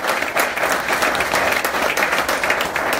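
Audience applause at the Spooner Symposium, a dense, steady clapping from a large crowd that holds loud and even for the full three seconds with no one speaking over it.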